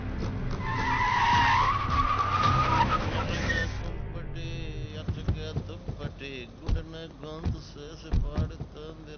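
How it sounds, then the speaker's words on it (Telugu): A car brakes hard and skids to a stop in a comedy film scene, a loud, drawn-out tire squeal lasting about three seconds, followed by voices talking. "Why did you stop the car?"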